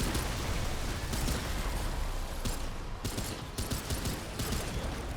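Continuous rapid gunfire from a weapon in the video game Remnant 2, loud and dense, with bursts of sharper crackling shots throughout and no talking.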